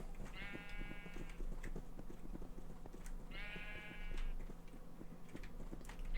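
Two short sheep bleats in a video game, a few seconds apart, over a quiet background with soft ticking and low hum.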